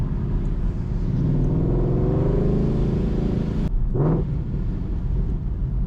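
Ford Mustang Mach 1 driving on the road, a loud steady engine drone and rumble from inside the car, with a brief shift change partway through.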